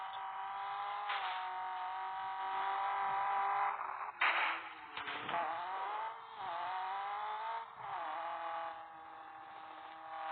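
A racing-game car engine screams at high revs with the turbo engaged, holding a steady loud whine with sudden gear-shift dips and a sharp burst partway through, alone without talk.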